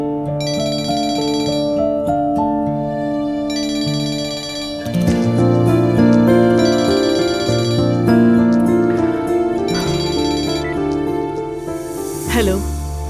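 A mobile phone rings with a repeating melodic ringtone, several loud tonal phrases in a steady pattern that carry on for over ten seconds and swell midway.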